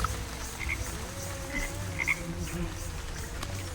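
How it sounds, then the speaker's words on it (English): Frog croaking in the witchy crafting game Wytchwood, a steady low throaty croak running throughout with a few faint higher chirps on top, close and continuous. "Oh my god, look at this frog!"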